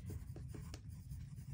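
Pen or pencil writing on paper during a grade 5 math lesson, soft close scratchy strokes in quick repeated bursts with no talk.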